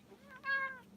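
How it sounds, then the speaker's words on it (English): A single cat meows close by indoors, a short, soft, rising call about half a second long with no talk over it. "Sorry about the cat"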